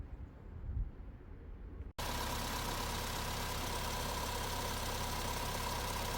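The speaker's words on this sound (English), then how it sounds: "here it is with the engine running before I did anything" Vauxhall engine with fault code P0171 running at a rough idle, a steady loud broadband engine drone that cuts in after a brief quieter stretch and continues evenly to the end.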